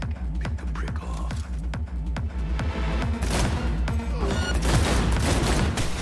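Gunfire in Cyberpunk 2077 rings out as a rapid series of sharp shots, rhythmic bursts over a pulsing backdrop at first, then a denser, louder volley of firing toward the end.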